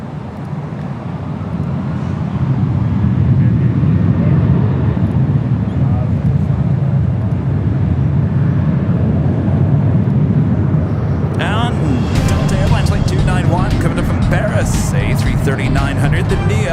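Southwest airliner departing runway 24 Left at Los Angeles International, a steady loud jet roar building over the first seconds and holding throughout, with radio chatter and other noise layered on top near the end.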